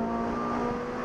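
A Ferrari engine drones steadily and close at a constant pitch while the gearbox shifts down on its own, a brief, sustained mechanical hum with no talk.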